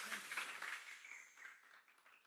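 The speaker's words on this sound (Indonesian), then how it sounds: "Tepuk tangan buat Tuhan." A church congregation at a Sunday worship service claps their hands for God, a dense wash of applause that starts fairly strong and steadily fades away over a couple of seconds.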